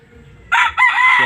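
A rooster at a chicken farm crows loudly and close in two bursts after a quiet stretch of faint low sounds.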